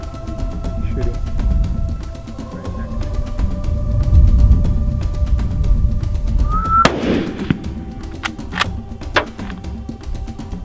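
A single sharp gunshot cracks out midway through a field hunting scene, followed by a few fainter clicks and snaps over a low background rumble.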